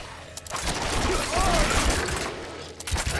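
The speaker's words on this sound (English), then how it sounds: "So I'm using rapid fire at this point." Rapid bursts of ranged fire from a Rogue's Rapid Fire skill in the Diablo 4 open beta, played in a forest, crackle loudly in a quick flurry that swells and fades within three seconds, with faint talk mixed in.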